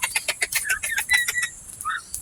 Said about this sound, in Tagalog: ayan na yung ating mga pabo mga kaprobinsya